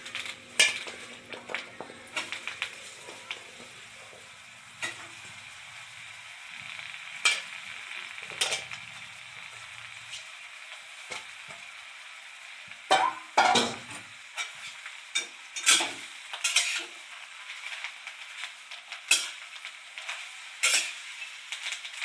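Garlic and taro frying in a pan with green chilies give a soft sizzle under repeated stirring scrapes and clinks of a spatula against the pan. These come in irregular close bursts over a low hiss.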